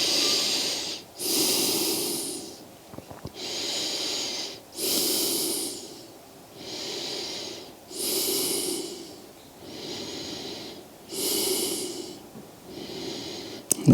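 Slow, deep breathing while a yoga stretch is held: six or so loud, airy inhales and exhales close to the mic in an even rhythm, each long breath separated by a short pause.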